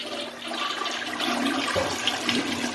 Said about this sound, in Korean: 만약에 이렇게 물을 내리면은